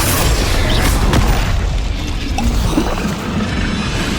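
A Bombarda spell explodes in the Hogwarts Legacy video game, a loud, dense boom and rumble that fills the whole stretch with no clear pause, heard alone without speech.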